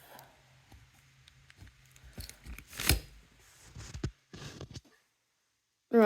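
Excess material being trimmed off a de-moulded resin casting, a series of close, irregular snips and crackling cuts with handling rustle, briefly silent before a short sharp noise at the end.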